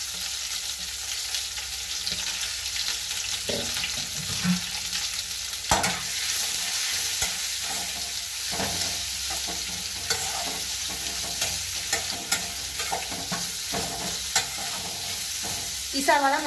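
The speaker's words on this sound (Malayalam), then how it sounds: "കടുക്, വറമുളകും കറിവേപ്പിലും, പിന്നെ 2 ചെറിയ സവാള ഇടുന്നത്." Sliced onions frying in hot oil with mustard seeds, dried red chillies and curry leaves for kadala curry, a steady loud sizzle with crackles and occasional spoon scrapes throughout, close up.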